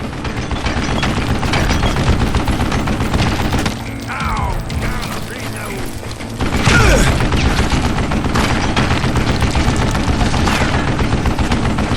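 Rapid automatic gunfire from a mounted gun in the Western shooter Call of Juarez: Gunslinger, loud sustained bursts of shots with a brief lull midway before the firing resumes just as intensely.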